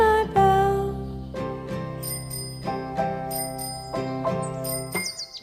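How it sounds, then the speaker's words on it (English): A bicycle bell rings several times in a steady rhythm, bright metallic dings over a children's song. "I ring my bell"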